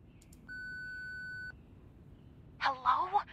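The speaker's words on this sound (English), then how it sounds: "Please leave a message after the beep" Answering machine beep in the video game Reverse: 1999, a single steady electronic tone lasting about a second, followed by a brief voice.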